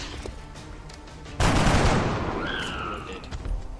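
Soldiers open fire in XCOM Enemy Unknown with one loud, close burst of gunfire that rings out and decays over a couple of seconds, with a faint rising whine after it.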